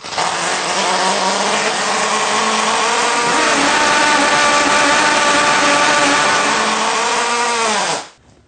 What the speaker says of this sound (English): I have my see-through rotary engine built, ready to start for the first time